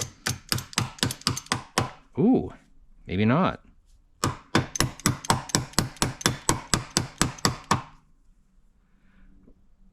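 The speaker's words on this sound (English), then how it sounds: "see if we can hammer this little guy out of here" Rapid, sharp metallic hammer strikes hammering a rusted part out of a 1939 Dodge sedan, in two quick bursts, a short spoken remark in between, then the pounding stops.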